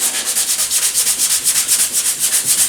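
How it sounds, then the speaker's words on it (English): A 120-grit sanding block works body filler by hand on a 1995 Corvette quarter panel, giving a close, even scraping rasp in quick regular strokes that continue steadily with nobody speaking. "Now I've got a sanding block, and I've got some 120. The rest of this we'll be doing all by hand."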